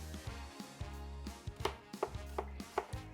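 A knife chops fruit into pieces on a cutting board, giving a run of about eight distinct cuts in an uneven rhythm, close and clear over faint background music.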